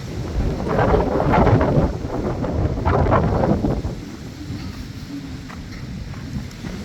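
Wind blows outdoors beside a dhoop tree in Karnataka, a loud broadband rush buffeting for about four seconds before easing into a softer, steady blow.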